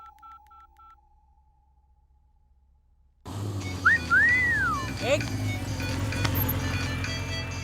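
A phone plays a short repeating electronic tone, faint against near silence, before the scene cuts to a louder room where whistle-like tones sweep and a voice talks.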